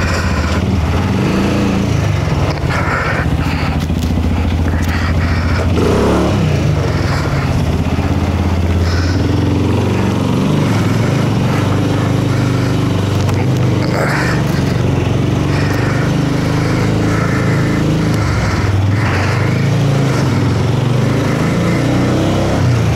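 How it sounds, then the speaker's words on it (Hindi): A long traffic jam fills a narrow lane, with motorcycle and small engines running and revving close by in a loud, continuous drone that never lets up. "तो आपको जाम नज़र आ रहा होगा कितना ज़्यादा लंबा ट्रैफिक जाम है यहाँ पे।"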